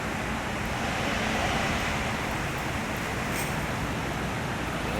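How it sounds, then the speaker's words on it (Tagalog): Heavy rain at night, heard from inside a moving car on a wet, traffic-jammed road. A dense, even roar of rain and road wash holds steady throughout at a moderate level, with no talking. "Malakas po ang ulan."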